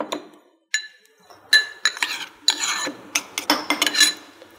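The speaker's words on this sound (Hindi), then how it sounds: "अब ये डाल के अच्छी तरह इसे मिक्स कर लें" Cockroach bait powder with sugar being stirred and mixed in a bowl, heard as close, uneven scraping and clinking strokes in short bursts with brief pauses, no talking.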